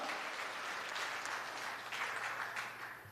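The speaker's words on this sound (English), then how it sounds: "Senator, put your hands together for her." An audience at a St. Kitts-Nevis Labour Party constitutional conference gives steady, moderately distant applause, a continuous wash of clapping with a faint low hum underneath.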